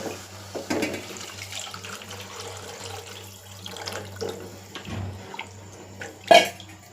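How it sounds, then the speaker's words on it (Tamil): Tamarind water poured into a cooking pot, a soft splashing trickle at moderate level with a brief louder splash near the end, no voices. "ஒரு புளி 25 கிராம் புளி வச்சுருக்குறோம். அதை இப்போ ஊற்றுவோம்."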